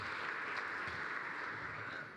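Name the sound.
audience applause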